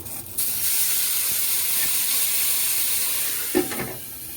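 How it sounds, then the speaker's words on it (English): Soy sauce poured onto big prawns frying in a pan sets off a loud, continuous sizzle and steamy hiss, close up, with a brief clatter near the end. "I'm going to add the sauce"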